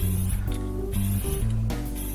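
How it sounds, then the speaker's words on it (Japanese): Black lacquer spray paint hisses onto a homemade fender part for a Triumph Street Scrambler fenderless conversion, coming in three short, close bursts with pauses between, over steady background music. "黒いラッカースプレーで"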